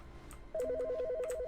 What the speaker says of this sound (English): Whose phone's ringing? it's, this phone.